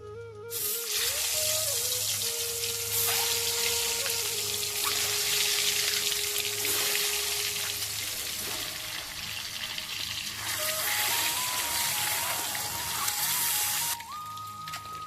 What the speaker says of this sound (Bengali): এবার ডিম ভেজে নেব